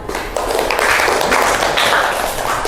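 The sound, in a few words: applause for a student in a classroom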